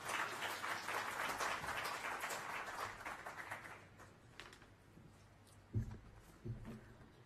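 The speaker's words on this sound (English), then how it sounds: "Give her a round of applause, please." Conference audience applauding at a trade and industry plenary session, a dense wash of clapping that fades over several seconds, with a few louder knocks near the end.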